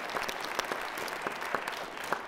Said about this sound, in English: Go ahead and applaud, absolutely.